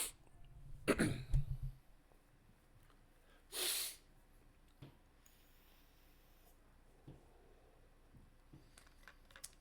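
A person blows their nose in one loud, honking burst near the start, with a second brief blast a couple of seconds later and quiet room tone between.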